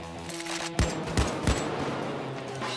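An AK rifle in a video game fires from the hip in three sharp, loud shots about a third of a second apart, set against steady background game noise.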